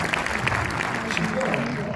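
Audience applause at a film premiere screening in Orléans, a steady wash of clapping from the crowd with people talking over it.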